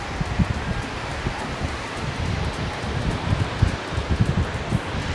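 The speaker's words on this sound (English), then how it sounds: "It's so windy out here." Steady gusting wind buffets the microphone outdoors on the beach at Kamakura, Japan, with a broad rushing roar and low rumbling bursts; no one speaks.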